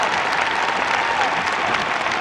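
Thunderous standing ovation from a figure skating arena audience after a men's long program, continuous heavy clapping at a steady loud level with no break.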